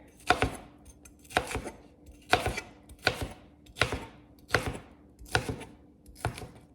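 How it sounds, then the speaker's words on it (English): A knife slices cooked chicken into chunks on a cutting board, seven to eight sharp close knocks falling in a fairly even rhythm, each with a brief scrape. "always keep your fingers tucked in like this when you slice so you don't cut your finger"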